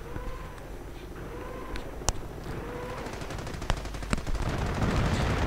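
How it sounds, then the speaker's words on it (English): Machine gun fire from an emplacement in a WWII strategy game, a steady dense chatter of bursts running the whole stretch with a few sharper cracks standing out, set in a continuous battle din. "the Panther is going to end up getting suppressed by the machine gun emplacement"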